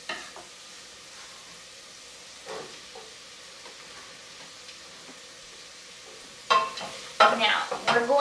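Finely diced eggplant cooks in a pan with a quiet sizzle, then louder stirring and scraping bursts near the end.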